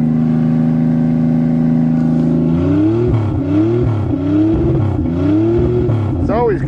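A 1990 Chevrolet Celebrity 3.1 engine idles steadily on a cold snowy winter day, then revs repeatedly in rising and falling surges, loud and close, with a final sharp climb.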